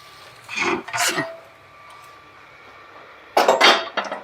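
Idli are served onto a plate with two short clusters of utensil and plate clinks, close and fairly loud, separated by a quiet pause.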